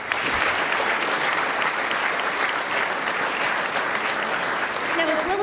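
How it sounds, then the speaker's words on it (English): A banquet-hall crowd at a business awards gala dinner claps steadily and loudly for several seconds, a dense sustained wash of many hands, with a voice briefly audible near the end. "How about another round of applause?"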